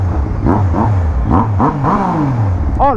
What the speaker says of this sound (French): pour le plaisir de conduire un Niken Turbo